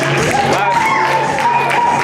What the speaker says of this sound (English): Everybody clap it up for Selassie.